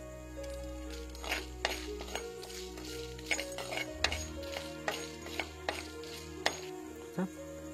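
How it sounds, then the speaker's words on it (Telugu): Dried red chillies, black pepper and curry leaves frying in oil for korra millet coriander rice, a soft crackle under frequent metallic clinks and scrapes of a spoon against the pan, fairly quiet and close. "కరివేపాకు, కరివేపాకు ఇవన్నీ కూడా కొంచెం ప్రాపర్గా వేగాలన్నమాట"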